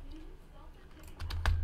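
A handful of quick key presses on a computer keyboard, close and clicky, arriving near the end over a low room hum while a voice murmurs faintly in the background.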